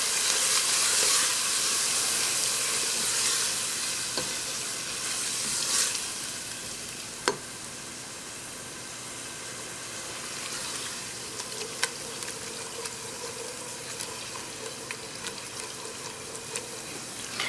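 Small chopped tomatoes sautéing in a pan for a coconut curry, giving a continuous close sizzle and hiss with occasional soft clicks of stirring, steady throughout without talk.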